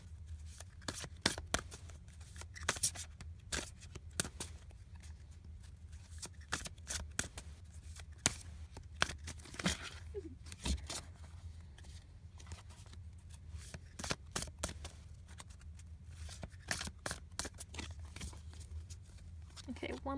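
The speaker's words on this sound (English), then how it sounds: "Okay, one more shuffle, and then..." A deck of tarot cards is shuffled by hand, with repeated crisp riffling and snapping bursts close to the listener and a steady low hum underneath.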